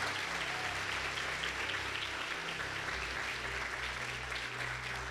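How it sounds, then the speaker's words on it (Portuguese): A church congregation applauds in a steady, even wash of clapping, soft and somewhat distant, lasting the whole moment without a break. "Eu gostaria que você desse uma salva de palmas para o Senhor Jesus nesta manhã."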